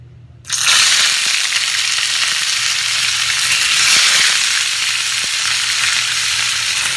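Galunggong fish dropped into hot oil gives a sudden burst of loud, close, crackling sizzle that holds steady and dense, with a few faint pops and clinks.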